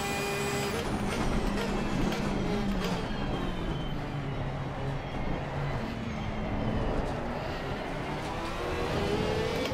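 Race cars roar off the start at Monza in Assetto Corsa Competizione, several engines revving and rising in pitch together in a loud, continuous layered drone.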